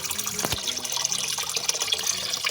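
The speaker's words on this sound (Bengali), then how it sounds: "কল থেকে পাইপ জল ভরা হচ্ছে" Tap water runs through a hose into the small filling opening of a 36-litre Bajaj air cooler tank, a continuous close hiss and splash of steady flow throughout, with no talking.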